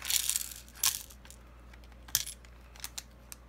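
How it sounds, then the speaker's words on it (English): Small metal RC ball diff parts are dumped into a container, starting with a loud burst of jingling clinks and settling into scattered lighter ticks and rattles close by. "I'm just going to go ahead and dump everything into here"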